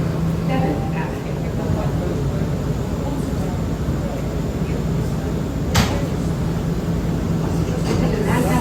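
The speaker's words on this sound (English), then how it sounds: "This is a Manhattan-bound F local train." Steady loud rumble of a Manhattan-bound R179 F local subway train riding from Coney Island, a constant roar with rail clatter and a sharp clunk near the end, heard from inside the car.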